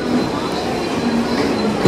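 A crowded local passenger train on Mumbai's Central Railway rumbles steadily close by at Dadar station, a continuous rolling hum of rail cars with faint wheel noise throughout.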